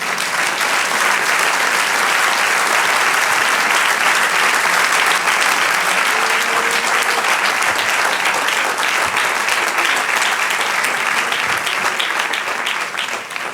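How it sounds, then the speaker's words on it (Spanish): A church congregation claps in sustained, loud applause that fills the whole stretch, a dense steady roar of hands with no break until a slight fade at the very end. "Dale un aplauso al Señor."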